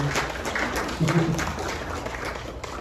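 An audience bursts into applause, a dense wash of clapping that runs steadily under a voice addressing the crowd at a live event.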